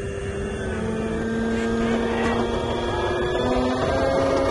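The electric motor of a Solis SV24 compact tractor runs at raised RPM while its self-leveling loader lifts a bale, giving a steady tonal whine over a low rumble, close by and without speech.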